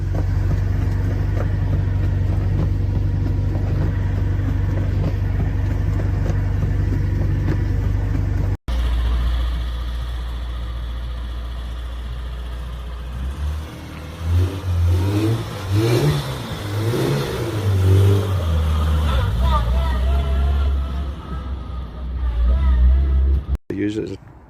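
A Morris Minor car with a supercharger, driven with a steady low engine drone that changes partway through into revving and rising engine pitch, loud and close, with a voice speaking over it.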